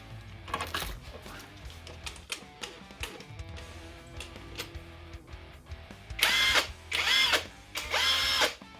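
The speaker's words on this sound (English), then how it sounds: "Take my impact wrench. Just overheated." An impact wrench works on a wheel hub carrier bushing during a C5 X7 hub bushing replacement, firing three loud, sustained hammering bursts near the end after a stretch of softer clanking and mechanical shop noise.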